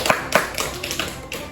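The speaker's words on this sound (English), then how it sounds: "Give him a round of applause" A few scattered hand claps from a small group in a classroom, brief and uneven, close and fairly light.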